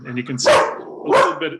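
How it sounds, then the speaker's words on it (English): A dog barks twice indoors, close and loud, the sharp barks spaced about half a second apart and overlapping someone talking. "sorry about the dog."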